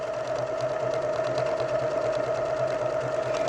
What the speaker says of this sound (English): set your machine just to sew one design